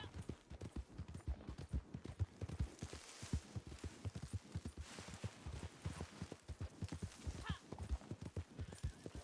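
Horse hooves clip-clop in a quick steady rhythm in a video game, faint and continuous, with a brief whinny partway through.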